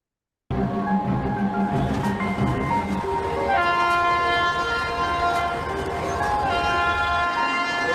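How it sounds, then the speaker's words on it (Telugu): Train at a railway station, with loud rolling rumble and a sustained tonal horn-like whine rising partway through, close and continuous. "ట్రైన్ పట్టుకోవాలాయే"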